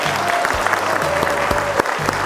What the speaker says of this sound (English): please give a round of applause for Octavio Lopez Love